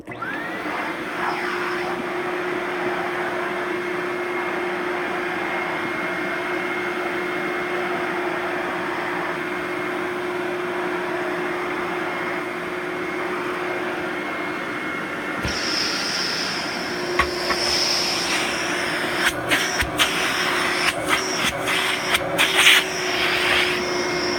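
A vintage Eureka Model 3711 D canister vacuum cleaner runs with a loud, steady motor whine close by, its tone brightening partway through, followed by a few clicks and bumps of handling.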